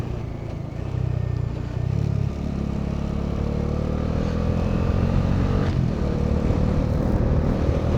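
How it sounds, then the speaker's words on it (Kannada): Honda CB 350 motorcycle on a rough, broken mountain road on the Kargil to Ladakh route, a low steady engine rumble mixed with wind noise and rattling, with no clear pass-by peak. "ನೋಡು ಅಣ್ಣ ಹೋಂಡಾ CB 350 ಬರ್ತಾವನೆ."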